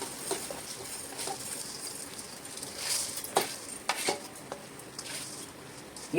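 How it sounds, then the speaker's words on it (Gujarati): Washed rice tipped into a pan of cooked vegetables, soft pattering and metallic clinks of a spoon against the pan, quiet and close, with a louder clatter at the end. "એટલે આપણે ધોયેલા ભાત હતા એ નાખી દેવાના છે."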